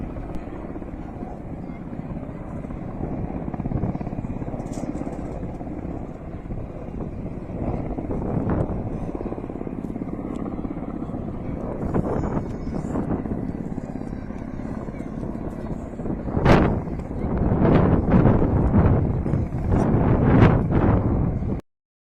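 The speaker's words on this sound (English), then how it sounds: "we can see these Russian helicopters flying over the countryside here as well" Russian military helicopters fly over countryside, a loud, steady rotor drone with wind buffeting the microphone that swells toward the end as the aircraft pass close.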